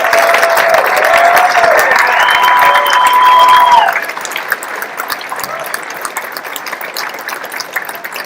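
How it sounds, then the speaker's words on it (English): Audience applause at an Airman Leadership School graduation ceremony on an Air Force base, a loud, dense round of clapping for nearly four seconds that then drops to a quieter, thinning patter with a few background voices. "please rise and be recognized with a well-deserved round of applause."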